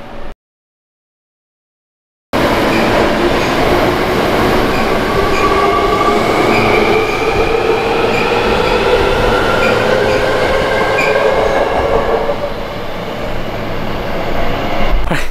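A Hankyu train passes through Sōjiji station, a loud steady roar of wheels on rails with rhythmic clatter that runs for over twelve seconds after a brief silence, fading slightly near the end.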